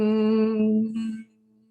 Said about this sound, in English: we're going to make this humming bee, Brahmari sound